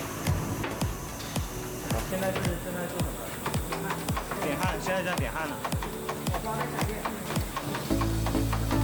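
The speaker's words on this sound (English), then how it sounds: "This is an automatic spot welding machine." An automatic spot welding machine welds battery cells for a 72V 20Ah power battery pack, giving a fast, regular series of sharp clicking pulses that repeat steadily throughout at moderate volume, with a machine hum underneath.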